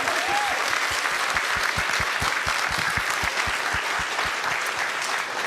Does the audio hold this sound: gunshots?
no